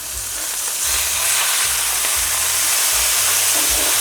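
Wagyu ground beef burger patties sizzle steadily in a hot pan right after being flipped, a loud, continuous close-up hiss and crackle with no talking.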